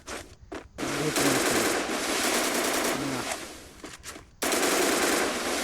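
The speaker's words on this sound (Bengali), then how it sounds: "হেডশট মারার চেষ্টা করি ভাই, হেডশট মারার।" Rapid bursts of automatic gunfire from the Free Fire shooter game, fired in quick strings while aiming for headshots, with short gaps between volleys and loud dense shooting toward the end.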